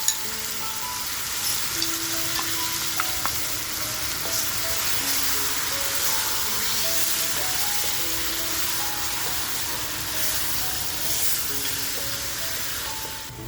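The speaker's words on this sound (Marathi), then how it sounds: "आता जो आपण मसाला करून घेतलाय तो मसाला टाकून छान असं फ्राय करून घेणार आहे" Green masala paste with garlic and black pepper frying in oil for a bitter gourd curry, a continuous even sizzle with faint clinks of a utensil scattered through it.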